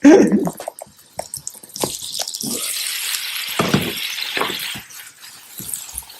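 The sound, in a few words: pouring hot peas over artichokes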